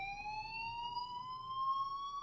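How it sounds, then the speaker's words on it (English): A school fire alarm in the video game Life is Strange sounds as one continuous, steady electronic tone that rises slowly in pitch, holding at a moderate level throughout with no talking over it. "do you hear that fire alarm? That means you should be outside."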